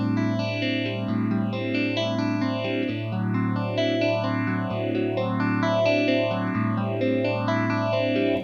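A phaser effect set to positive feedback sweeps steadily up and down over a sustained, buzzing tone, its hollow, vocal-like whoosh rising and falling about once a second, loud and continuous without any talking.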